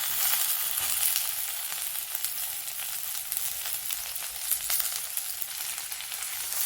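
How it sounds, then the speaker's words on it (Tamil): Vegetables sautéing in hot oil with green chillies and shallots for idi sambar, a steady bright sizzle with occasional stirring clicks, close and continuous, no voices. "மிளகாயும் வெங்காயமும் வதங்கினதுக்கப்புறமா இதில் நம்ம எடுத்து வச்சுருக்கிற எல்லா காய்கறிகளையுமே சேர்த்துக்கலாம்"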